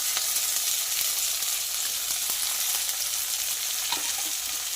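Tomatoes and green chillies fry in a hot pan with a steady, close sizzle, dotted with faint clicks of stirring.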